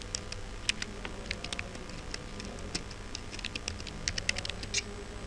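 Typing on a computer keyboard while setting up software in Kali Linux, a quiet, irregular stream of light key clicks over a steady low background hum.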